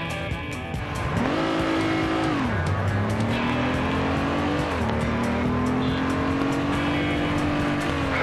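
A racing car in a video game roars continuously and loudly with nitro boost, its engine pitch climbing, dipping and climbing again, with faint tire squeal and no talk over it.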